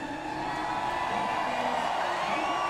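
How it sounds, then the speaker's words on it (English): A NASCAR Cup Series crowd at New Hampshire Motor Speedway roars and cheers in a distant, continuous wash of voices, fairly faint and steady throughout. "You hear the crowd yelling."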